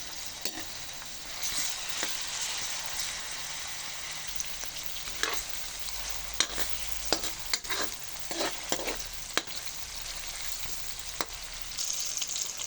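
Onion and tomato being sautéed in a pan for misua with pechay and saluyot, a steady sizzling hiss with scattered clinks and scrapes of stirring, close and fairly quiet.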